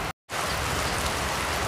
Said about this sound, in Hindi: बारिश चालू है।